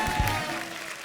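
Studio audience on an Indian comedy talk show claps in a brief, dense burst of applause that fades quickly, with no talk over it.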